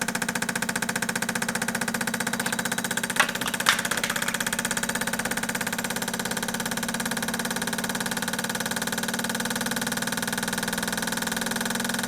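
A square body truck engine with fuel pressure around 122 to 125 runs with a steady, even mechanical drone and fast ticking pulses, holding nearly constant loudness. A couple of brief clicks stand out early on.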